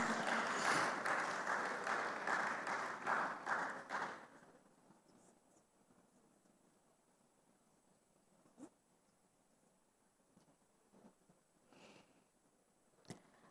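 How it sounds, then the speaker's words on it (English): Audience applause at a tech conference, a dense round of clapping from the crowd for about four seconds, then it cuts off into a quiet room with a few faint knocks and small noises. "A warm round of applause, please."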